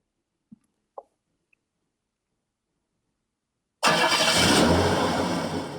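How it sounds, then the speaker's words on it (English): A Bluetooth speaker plays its startup sound styled after a car engine turning over: a few faint clicks in near silence, then a loud, full-range roaring swell with deep bass that holds steady and slowly tapers. "even the startup sounds are like a car"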